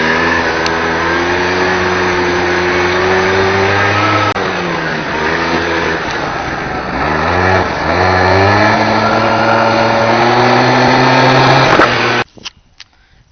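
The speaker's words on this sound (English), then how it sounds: "My Polaris, it's a Scrambler 50. Take it for a ride." Small Polaris Scrambler 50 ATV engine running steadily and revving up and down during a ride, loud and close for about twelve seconds before cutting off abruptly.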